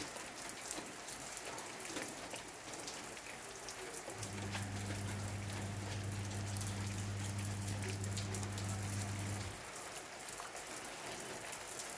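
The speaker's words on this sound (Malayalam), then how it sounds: "ഇങ്ങനെയാണ് വരുന്നത് മഴവെള്ളം മുകളിൽ നിന്ന്" Steady patter of artificial rain dripping and splashing down onto an ornamental palm at a house, continuous throughout, with a low mechanical hum joining in the middle.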